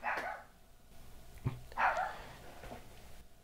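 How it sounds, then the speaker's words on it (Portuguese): A dog gives a couple of short barks a moment apart indoors, close but not loud, against a low background hum. "O cachorro quer participar de novo."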